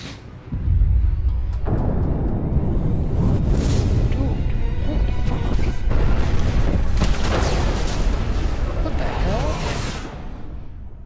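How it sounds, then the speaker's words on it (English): A huge explosion in the video game Mass Effect 2, a sudden booming blast that rolls into a long, loud rumble with whooshing debris for several seconds before easing off. "That was fucking a massive explosion."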